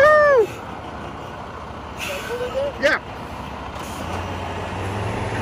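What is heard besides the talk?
car transporter truck arriving with air brakes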